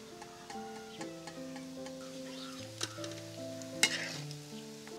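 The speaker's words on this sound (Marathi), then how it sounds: "थोडा वेळ आणखीन फ्राय होऊन देऊया." Vadas deep-fry in oil with a soft continuous bubbling sizzle, quiet and even, under steady background music with a couple of brief clinks.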